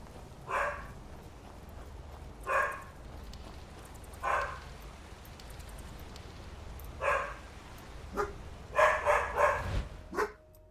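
A dog in the Skyrim video game barks in short, spaced bursts, then in a quicker cluster of yaps near the end, moderately close over a faint ambient hum.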